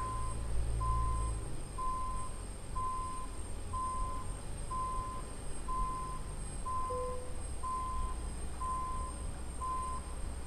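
A Ford LTL 9000 truck in American Truck Simulator backs a Featherlite trailer, its reversing alarm beeping about a dozen times in a steady, evenly spaced rhythm over a low engine drone, with no one talking.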